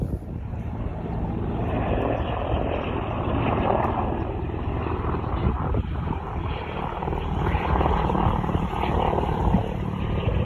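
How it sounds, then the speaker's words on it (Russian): Helicopters pass over a riverside fishing spot at the stanitsa of Starocherkasskaya, a steady droning rotor and engine roar that fills the whole stretch at even loudness, with no talking. "как вертолеты пролетели"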